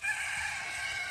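Farm-raised chickens make a brief rooster-like crowing call, heard alone as a short, steady, fairly faint sound.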